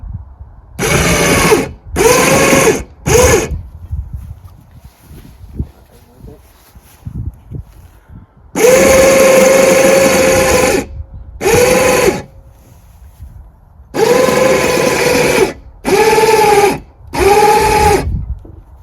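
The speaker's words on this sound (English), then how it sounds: "we'll have a go anyway and see how easily this will winch on" Winch pulling a 1962 Bolens Ride-a-matic tractor on, whining in several loud, close bursts of one to three seconds separated by pauses, with a steady motor tone and faint clunks between runs.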